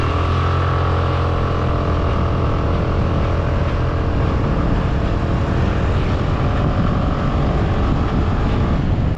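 A 2023 Suzuki Avenis 125 scooter rides along and swings through a U-turn, giving a steady, smooth engine hum blended with constant wind rush and no speech.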